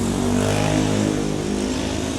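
A motorcycle passes in heavy midday street traffic near a market in Pasig, its engine a loud, steady droning hum that holds for a couple of seconds with no talk.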